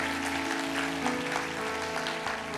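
A church congregation at a Sunday worship service claps together in a sustained, even round of applause, with soft musical tones underneath.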